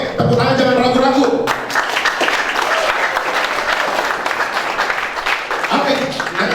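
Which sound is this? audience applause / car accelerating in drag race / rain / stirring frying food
audience applause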